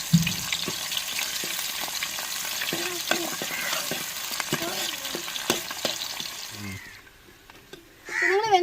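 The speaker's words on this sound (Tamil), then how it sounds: "நல்லா வெங்காயத்தை பச்சை மிளகாய் வெள்ளைப்பூடையெல்லாம் வதக்கி விட்டுக்கிறோங்க" Onion, green chilli and garlic frying in oil, with a steady close crackling sizzle and occasional stirring clinks that drop to near quiet before the sizzle swells again.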